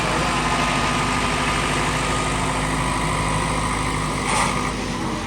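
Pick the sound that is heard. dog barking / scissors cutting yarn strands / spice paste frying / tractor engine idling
tractor engine idling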